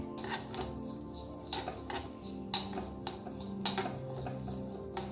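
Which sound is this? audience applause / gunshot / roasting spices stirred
roasting spices stirred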